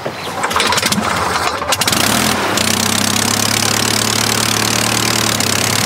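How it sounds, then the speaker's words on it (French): A small piston engine of a vintage light aircraft, started by hand-propping, sputters and catches, then settles into a steady, throbbing idle, loud and close. "C'est un avion qui se démarre à la main, encore"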